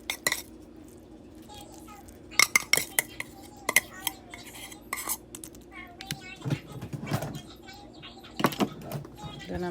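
A spoon scrapes and knocks mac and cheese into a baking dish, producing repeated sharp metallic taps and scrapes against the dish amid quieter kitchen handling, with a voice briefly in the background.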